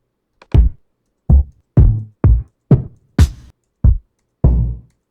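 Kick drum samples played one after another in a Reason NNXT sampler, eight punchy booming hits with short decays separated by silence, spaced unevenly.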